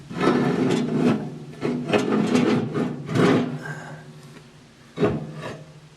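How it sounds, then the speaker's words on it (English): Heavy cast iron grates are slid and rocked into an Esse Ironheart stove, giving close, gritty scraping and rubbing strokes in several bursts with a sharp knock near the end. "Next you have to put in your cast iron grates. They're very heavy."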